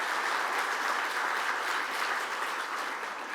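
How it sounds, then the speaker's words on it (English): Audience applause at a community celebration, sustained even clapping from a crowd, moderately distant, alone without talk. "One more round of applause for our community members."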